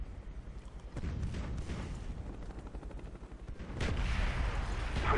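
Call of Duty Black Ops gameplay with mortars and gunfire: a dense, continuous rumble of explosions and shots for about five seconds, swelling louder near the end, with no talking.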